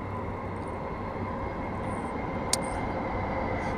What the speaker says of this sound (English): Our train goes past.